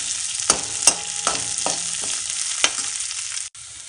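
Orange peel pieces sauté on low heat, a continuous soft sizzle broken by a few sharp scrapes and taps of a spoon against the pan, close and fairly loud, with no voices.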